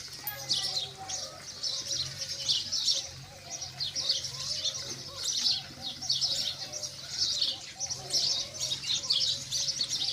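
Pigeons sitting above a nesting setup with eggs and chicks, calling and chirping steadily throughout alongside other bird chatter, with a faint low hum underneath.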